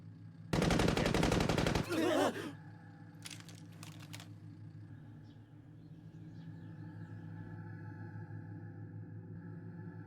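Gunfire in a Higurashi Outbreak anime scene: a loud, sustained automatic burst lasting over a second, followed by a few sharp single shots, then a low steady hum.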